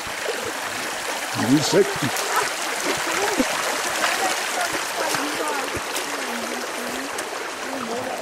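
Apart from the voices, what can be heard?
people wading through a river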